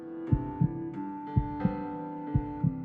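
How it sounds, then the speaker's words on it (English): A paired heartbeat thump repeats in a steady lub-dub rhythm over a low humming drone in the video game Goldenheart, each double beat clear and prominent. "That heart beating noise is never going to get old"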